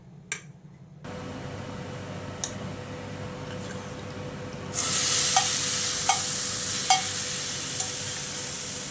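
A chicken hariyali mixture hits a hot pan after a quiet start, bringing a low steady cooking hum that jumps into a brighter sizzle halfway, punctuated by a few sharp ticks and pops.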